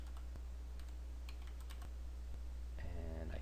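Typing on a computer keyboard, a few sparse isolated keystrokes spread out in a quiet room with a steady low hum, followed by a brief tonal burst near the end.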